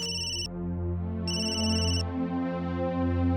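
A phone ringtone playing loud and close, a steady electronic tune with two bright bursts of high chiming tones over a sustained melodic pattern, no voices.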